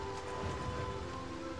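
Rain in the medieval battle game Mount & Blade 2 Bannerlord, a soft, steady hiss of falling rain, faint and continuous, with a low hum beneath it.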